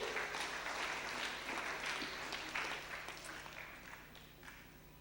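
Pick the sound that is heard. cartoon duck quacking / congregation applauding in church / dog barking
congregation applauding in church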